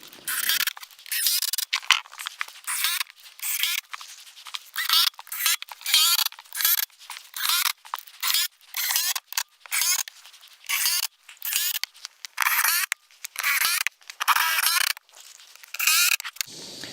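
Cordless driver sinking 2.5-inch torque screws through a plywood subfloor sheet on a log cabin floor build, in repeated short high-pitched whirring bursts separated by brief pauses.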